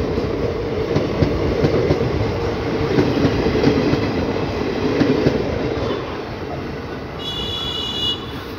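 Kasganj–Kashipur passenger train (53336), hauled by an Izzatnagar WDP4D diesel locomotive 40394, rolling past close by with a steady loud rumble of wagons on rails and a faint high squeal near the end.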